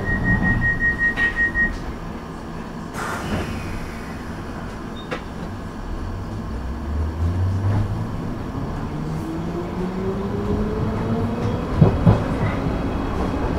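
A London Underground 1973 Stock Piccadilly Line train runs between Rayners Lane and North Ealing, with rumbling wheels on track, a brief tone near the start, and a rising motor whine as it accelerates, ending with sharp clattering near the end.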